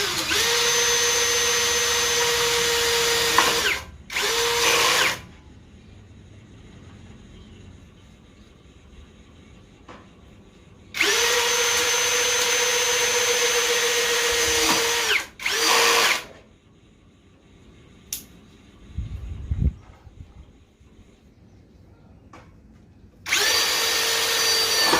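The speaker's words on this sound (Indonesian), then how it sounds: "Dan tes baut roofing." An MLHY 21V brushless impact drill drives roofing screws in two loud, sustained whirring bursts of about four to five seconds each, separated by quiet pauses with brief clicks, then a third burst begins at the end.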